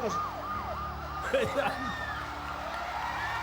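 Police siren wailing in repeated rising and falling sweeps on a street, loud and fairly close, with people talking and shouting in the background on a live variety show.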